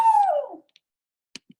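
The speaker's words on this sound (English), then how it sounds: "That's my dog." A dog lets out a single loud, close howl that slides downward in pitch and fades within about half a second, followed by a few faint clicks in near silence.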